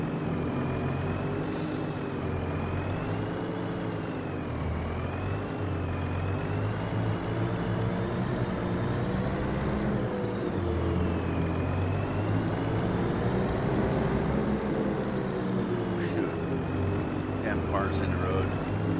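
Steady engine drone of trucks and cars on a road in Farming Simulator 25, with air-brake hisses and a continuous low rumble that holds loud throughout, under a talking voice.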